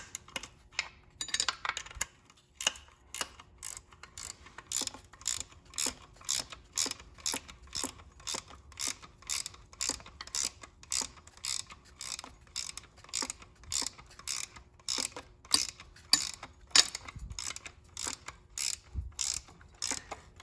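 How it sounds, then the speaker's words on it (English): A ratchet wrench tightens a bolt on an Audi 2.0T engine, giving quick runs of crisp clicking in a steady rhythm, repeated in bursts with short pauses between, close and fairly quiet. "once it's started, you should be able to ratchet wrench it into place."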